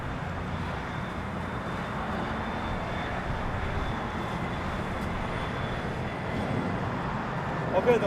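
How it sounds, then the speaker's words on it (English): A Boeing 767-400ER jet airliner at LAX produces a steady broadband engine rumble and roar, moderately distant and continuous throughout. "There's 767-400ER to JFK"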